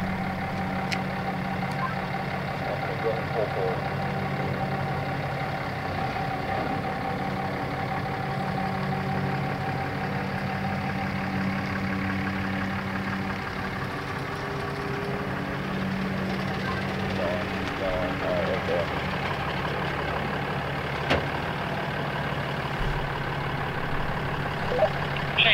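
A pickup truck engine idles steadily and close by while pulling an RV travel trailer forward in a sharp right turn, a constant low rumble throughout with faint voices now and then.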